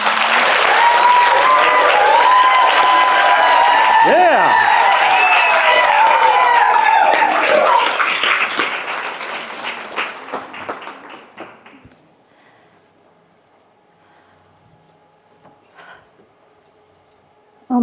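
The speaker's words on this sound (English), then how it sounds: "Let's please give her a round of applause." Audience applause welcoming a woman onto a stage at a live event, loud and dense with cheers and whoops for about eight seconds, then thinning to scattered claps and fading to near silence.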